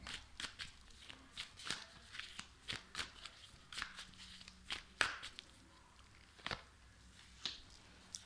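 Tarot cards laid down one after another into piles on a surface, giving a series of crisp soft slaps and card shuffles spaced irregularly, close and fairly quiet with no talk.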